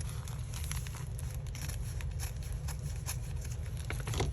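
Scissors snipping through thin deli paper in a quiet crafting setting, a faint crinkly cutting and rustling that continues steadily.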